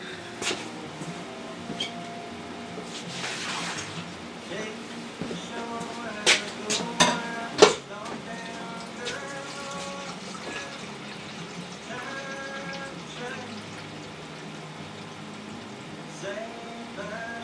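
Dirty beer-line cleaner from a keg and tap cleaning setup is dumped out, with sloshing and splashing liquid and a few clanks of gear over a steady background hum.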